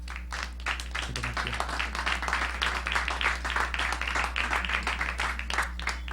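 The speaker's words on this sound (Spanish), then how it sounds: "Vamos a darle un aplauso al Señor." Church congregation applauding during a worship service, a steady dense patter of many hands clapping at moderate level over a constant low hum.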